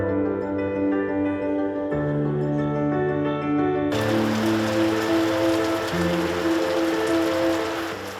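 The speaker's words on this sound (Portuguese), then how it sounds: "A chuva chega forte." Heavy rain pouring down in Itatiaia National Park, a steady dense hiss of falling water that swells louder partway through, under sustained low musical tones.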